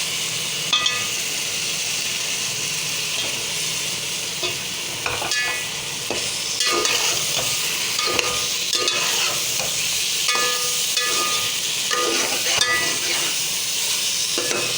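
Ridge gourd bhujia with coriander leaves and green chilies is stirred in a hot pan, a continuous sizzle with repeated scraping strokes and light clinks of the spatula, with no talking.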